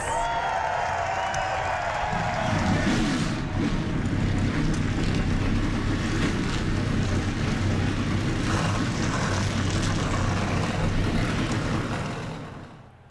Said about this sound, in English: 42 cars come to life on the front stretch, and they're rolling off for the very long pace lap